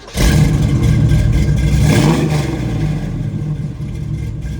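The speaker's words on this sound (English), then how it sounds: "Give us a little rev on that." A 1968 Camaro Rally Sport engine, close by, is blipped into a loud rising rev that peaks and falls back to a rough, steady idle.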